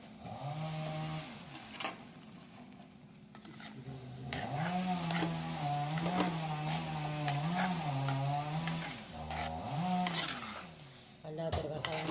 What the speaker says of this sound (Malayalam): പറമ്പിലാട്ടോ മരം മുറിക്കുന്നത്